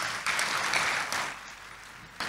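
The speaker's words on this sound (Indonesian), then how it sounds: "Tepuk tangan dulu buat Tuhan Yesus" A congregation at a Sunday church service claps together in praise, a broad wash of applause that swells and then tapers, moderately loud and slightly reverberant.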